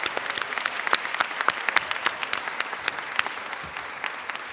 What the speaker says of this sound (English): ask you again for another round of applause to express our appreciation for their work